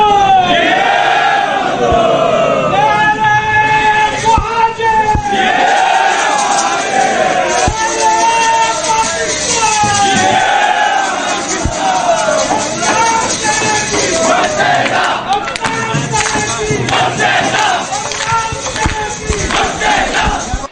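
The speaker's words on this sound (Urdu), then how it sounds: "ڈھول کی تھاپ پر رقص اور فلک شگاف نعرے بلند کیے گئے" Crowd of employees loudly chanting slogans at a union victory celebration, rhythmic massed voices with shouted calls and responses filling the whole stretch, close and intense.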